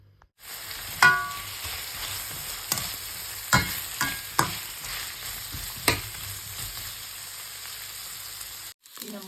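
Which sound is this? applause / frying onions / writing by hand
frying onions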